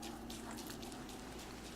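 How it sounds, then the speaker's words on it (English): Rain falling in the video game Don't Starve, a steady, even hiss of patter that holds without a break throughout. "And now it's raining."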